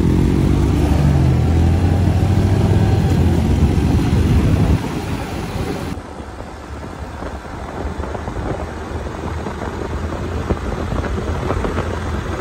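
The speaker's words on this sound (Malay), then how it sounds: "So kita nak ride je lah dengan motor baru" A new motorcycle ridden out toward a river, its engine droning loud and close with strong low rumble for several seconds, then dropping to a lighter, steadier road and wind roar as the ride continues.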